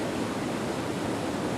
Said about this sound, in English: this view, the sound of the falls